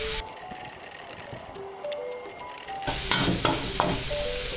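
Shrimp stir-fry in hot oil with dried chilies for basil shrimp: steady close sizzling with scraping spatula strokes and metallic clinks, growing louder and brighter as fresh ingredients hit the pan partway through.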